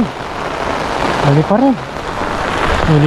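Heavy rain falls at night as a steady, dense hiss throughout, with a voice audible over it.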